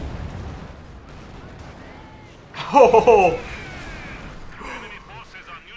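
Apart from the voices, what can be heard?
tank explosion in video game Company of Heroes 2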